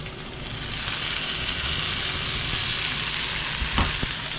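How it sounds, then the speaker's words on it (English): A garlic clove fries in a hot pan while cooking chicken mole almendrado in Mexico, giving a loud, steady sizzle that crackles throughout, with a brief clatter near the end. "We're going to do that in a hot frying pan"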